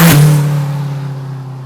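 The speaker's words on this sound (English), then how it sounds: "downpipe and then just open wastegate" A home-built turbocharged Toyota Celica with a downpipe and open wastegate lets out a loud, close exhaust blast that fades into a steady droning hum over under two seconds.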